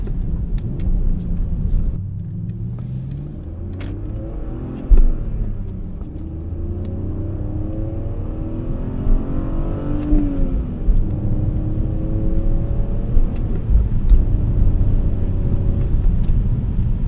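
A BMW E46 330i ZHP with snow tires and an open differential revs its engine while struggling for grip in snow, rising and falling revs with whirring tire spin, loud and close throughout.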